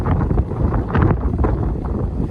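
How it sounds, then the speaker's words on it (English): Gusty wind buffets a camera microphone on a south Devon rock fishing spot, loud rumbling thumps and roars rising and falling without pause. "The wind has picked up, so sorry about that if you can hear it on camera."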